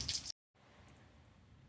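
Coolant flush water pours steadily from an unclamped heater core hose onto the ground, a faint, continuous trickle and splash after a brief gap of silence.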